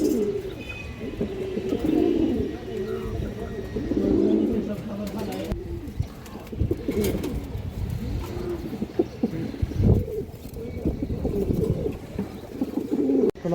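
Breeder and flying pigeons, including a large-headed, big-bodied bird, coo in a home loft, with overlapping throaty calls repeating steadily and close, plus occasional wing and cage rustles and a voice at times.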